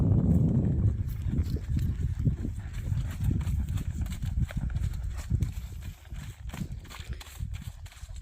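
A horse trots during a riding lesson, hooves clip-clopping in a steady rhythm on the ground. The footfalls are close and fairly loud, with faint stable or arena noise behind them.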